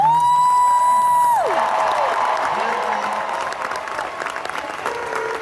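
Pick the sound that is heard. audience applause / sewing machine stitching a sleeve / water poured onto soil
audience applause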